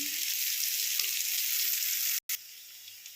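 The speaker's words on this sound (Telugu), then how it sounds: "కర్రీ అయితే చక్కగా వేగింది" Curry with salt and mustard-fenugreek powder sizzles steadily in a pan, a close, even hiss of frying with one brief dropout, no talking.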